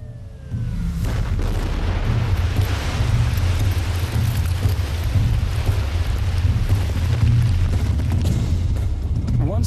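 Rock blasting at a construction site in northern Ontario: after a sudden onset, a heavy, sustained roar with deep low rumble continues loud and steady for several seconds, with no voices.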